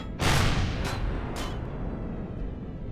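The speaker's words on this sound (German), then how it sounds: "Okay, da ist irgendwas explodiert." In the space game Empyrion, an explosion opens with a sharp, loud boom followed by a couple of quicker bursts and a fading low rumble, heard alone without voices.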